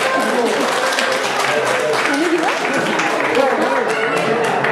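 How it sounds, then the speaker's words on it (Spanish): Applause at a school celebration for grandparents at a nursery school in Almoines, with clapping and a lively crowd murmur throughout, and children and adults talking over it. "un aplauso para Teta"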